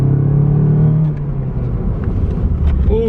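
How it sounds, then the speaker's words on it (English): Toyota MR2 braking hard on new rotors and brake pads, heard from inside the car as a loud engine and road rumble that dips as the car slows, with a brief squeal near the end. "we're going to be doing some hard braking here"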